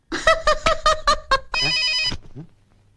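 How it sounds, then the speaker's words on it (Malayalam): A mobile phone rings with a series of rapid repeated tones followed by a longer sustained tone, loud and near, fading into quiet at the end. "എന്റെ ഫോൺ പോയടാ. ബെല്ലടിക്കണുണ്ട്."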